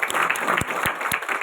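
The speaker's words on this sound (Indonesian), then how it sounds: "Mari tepuk tangan buat Tuhan Yesus." An Indonesian church congregation claps during a sermon, brief dense applause with a few sharp louder claps standing out, close and loud.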